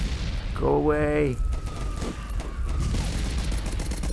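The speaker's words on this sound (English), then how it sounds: "They have dropped artillery on us." Battlefield fire in the World War I trench game Warfare 1917, a continuous rumbling barrage of artillery and gunfire under a voice that speaks briefly over the din.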